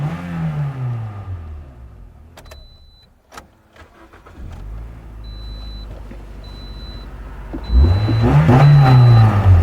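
A repaired Toyota Corolla that had a crank-no-start fault runs again after sitting idle, its engine turning over and then revving up loudly and close near the end.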